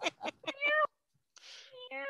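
A small kitten meows in a short, high, tonal cry that follows a brief burst of nearby human talk, with a second drawn-out meow after a pause.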